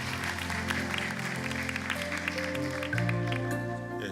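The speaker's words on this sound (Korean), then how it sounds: "최진우 교수님을 따뜻한 박수로 환영해 주시기 바랍니다" Audience applause welcoming the organizing committee chair at the opening ceremony of the 2017 Korean Peninsula Peace Sharing Forum, a steady patter of many hands blended with sustained music throughout.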